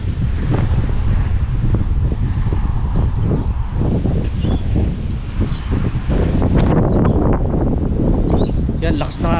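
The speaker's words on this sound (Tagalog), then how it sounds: "Yan, lakas ng hangin." Strong wind buffets the microphone outdoors on a walk around Newcastle, Australia, with loud, continuous low rumbling gusts and a voice talking intermittently over it.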